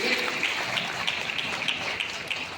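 Applause for children at a gathering in a marriage hall, a dense patter of many hands clapping steadily at moderate volume, with faint sharper claps standing out near the front.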